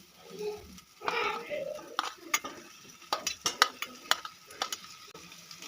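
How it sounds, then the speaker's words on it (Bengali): Fried potatoes stirred into cumin and coriander masala in a pan, quiet sizzling under a run of sharp spatula scrapes and clinks against the metal, close by. "আলু মশলার সঙ্গে খুব ভালো করে আবারও কষিয়ে নেব"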